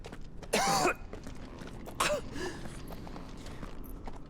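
A character coughs twice in a Final Fantasy XVI scene, two short raspy bursts about a second and a half apart, fairly close and moderately loud over a quiet ambient background.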